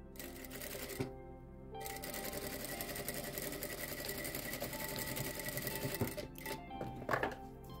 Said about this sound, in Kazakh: Енді негізгі бөлікті ғана тігіп жібереміз.